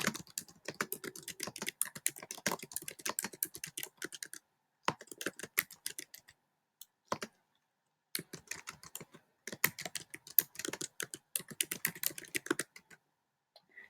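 Rapid, close clicking of fingers typing on a computer keyboard in bursts with brief pauses between, fairly quiet and without any voices.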